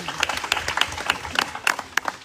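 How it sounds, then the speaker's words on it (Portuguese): A crowd claps in a quick, uneven burst, individual hand claps popping out distinctly at close range, with faint voices underneath. "Um salve de palmas para ele."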